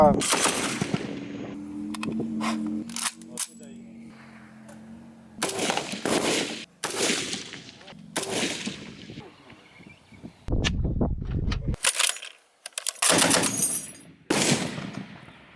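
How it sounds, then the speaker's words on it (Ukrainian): Crew-served weapons fire at a military shooting range, among them heavy machine guns, in loud bursts of rapid shots broken by pauses, with sharp cracks and some echo. Voices can be heard between the bursts. "Сьогодні проводимо безпосередньо стрільби з групової зброї."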